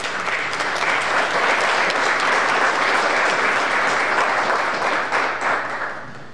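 Church congregation at a Sunday Mass applauding the singers and musicians, a full, dense round of clapping that holds steady and loud before tapering off near the end.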